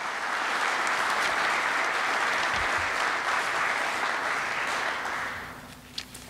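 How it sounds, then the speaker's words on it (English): A conference audience at an innovation summit's morning session applauds, a full, even round of clapping lasting about five seconds before fading out into room quiet. "One more round of applause for NABI and Jim Gibson."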